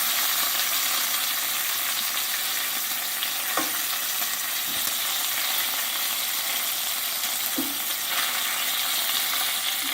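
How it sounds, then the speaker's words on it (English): Bacon strips frying in a greasy pan give a steady, dense sizzle and crackle throughout, with a few soft clinks of a utensil against the pan and no talking. "So this is our bacon we put in the pan."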